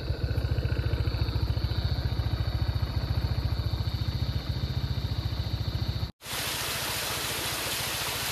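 A motorcycle engine chugs steadily in a rapid, even rhythm, close and fairly loud, cutting out briefly near the end before resuming on a mountain road.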